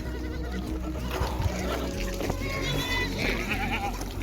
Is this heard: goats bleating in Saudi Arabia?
yes